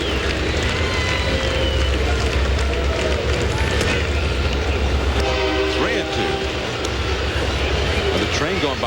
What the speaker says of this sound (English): The train going by outside.